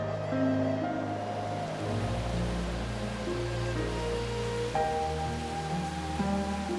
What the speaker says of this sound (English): Once again, the heavy rains return to Odaigahara.